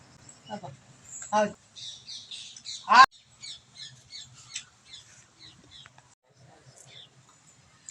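Crows cawing and squawking around a Pongal rice offering at a home Thai Pongal celebration, a string of harsh close calls with one loud squawk, fading into softer chirps over a quiet background.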